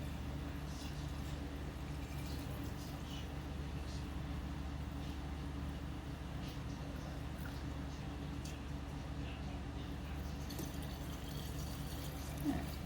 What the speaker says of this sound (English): So I'm gonna dump it in until I leave about 1 inch of headspace.